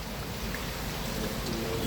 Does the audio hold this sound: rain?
yes